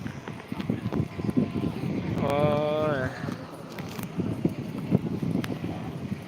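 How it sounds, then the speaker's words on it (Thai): Strong wind buffets the camera microphone at an outdoor football match, a rough, uneven low rumble with gusts. Someone talks over it and a brief tonal sound rises midway. "ต้องขออภัยนะลมมันแรง"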